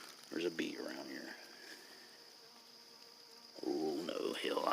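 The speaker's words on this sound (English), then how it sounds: "It's one of them European hornets." A European hornet buzzes around a West Virginia woodland during a mushroom hunt, a faint steady drone carrying through a quiet stretch between louder voice-like sounds at the start and end.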